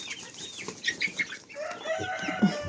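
Crested roosters and chickens in a barn give a run of short clucks and calls, nearby and moderately loud, with a longer drawn-out crowing call near the end.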